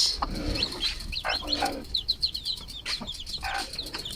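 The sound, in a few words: chicks and goose clucking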